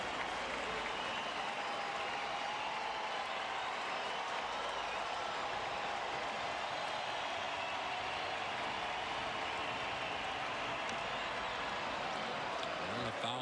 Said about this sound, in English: It's about as loud a crowd as we've heard here at Kauffman Stadium in a long, long time